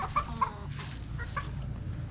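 Gamecock chickens cluck softly at a farm, with a few short clucks early on over a low background murmur, faint and somewhat distant.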